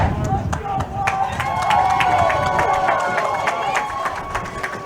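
Crowd at a college lacrosse game, Louisiana Cajuns against UTD, cheering and clapping in a steady roar, with a commentator talking over it.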